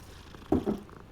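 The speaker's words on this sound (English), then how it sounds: "Pet the cat, get some good luck." A short cat purr plays as the cat is petted in the video game Hogwarts Legacy, two soft close rumbling pulses in about a second with a faint higher chirp after them and no voice.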